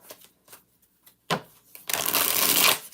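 Rider-Waite tarot cards are handled with a few soft taps and flicks, then a quick, dense riffle shuffle ripples through up close before stopping.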